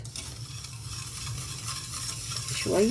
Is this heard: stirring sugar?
yes